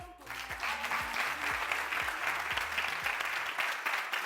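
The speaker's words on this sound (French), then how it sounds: "Je vais vous demander de faire un tonnerre d'applaudissements pour Agozo." A television studio audience applauds steadily for several seconds, a dense, loud wash of clapping with no talk.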